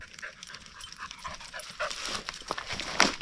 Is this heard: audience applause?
no